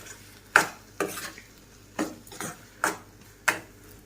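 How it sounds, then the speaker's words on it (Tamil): A curry leaf mixture being sautéed in oil in a pan, with a utensil scraping and tapping the pan in six or seven sharp strokes over a soft, faint sizzle. "லேசாக அந்த எண்ணெயிலே கொஞ்சம் வதக்கி விடலாம்"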